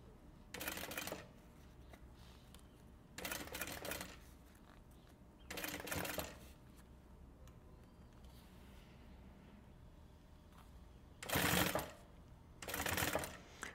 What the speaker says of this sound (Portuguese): aqui eu só vou alinhando a lateral do meu zíper e costurando um pouquinho para dentro